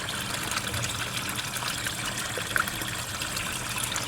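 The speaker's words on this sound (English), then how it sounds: "330 gallon per hour pump to move the water" A 330 gallon per hour pump keeps water moving in a small backyard koi and goldfish pond, giving a steady, close trickling and gurgling wash that holds even throughout, with no voices.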